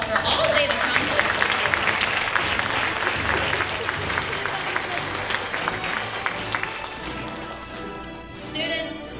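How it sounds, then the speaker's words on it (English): Families at a kindergarten graduation applaud the young graduates, a broad continuous crowd clapping with scattered sharp claps and some voices mixed in, fairly even throughout and easing slightly near the end. "let's just give our kindergartners a round of applause for all they've accomplished"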